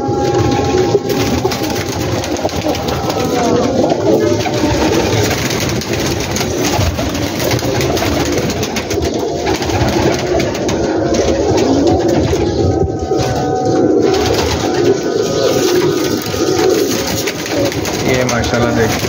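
A large flock of pigeons on a rooftop loft in Gujranwala coos continuously in a dense, loud chorus while someone talks over it throughout.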